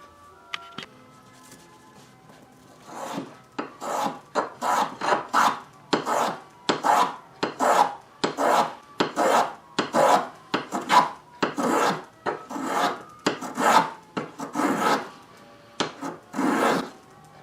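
A hand plane or rasp shapes a wooden archtop guitar bridge in a close, loud series of about fifteen rhythmic rasping strokes. Each stroke lasts roughly half a second, with no talking.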